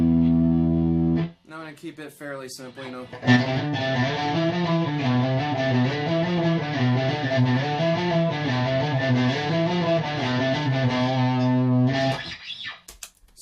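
A distorted electric guitar plays a sustained, gritty riff for several seconds, with someone briefly talking just before it starts.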